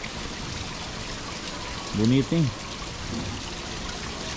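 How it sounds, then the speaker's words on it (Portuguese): Water from an artificial garden waterfall runs as a steady, fairly close broadband rush throughout, with a man's short spoken remark briefly rising over it. "A cachoeira artificial."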